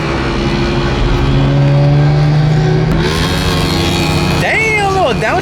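Nissan GT-R engine driving loud and close throughout, a steady drone that rises in pitch, then around the end drops through a quick downshift with sweeping revs; people talk over it.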